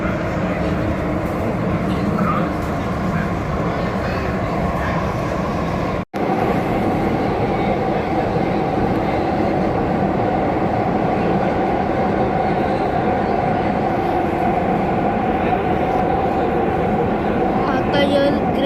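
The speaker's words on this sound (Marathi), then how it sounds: "हे बघा असं वाटतं असेल बुलेट ट्रेनची ॲक्सेलरेशन आहे, पण नाही, ही आहे अंडरग्राउंड मेट्रो." An underground metro train in Mumbai accelerates with a steady, loud rolling roar and rising motor whine heard from inside the carriage, continuous for the whole stretch with one brief dropout.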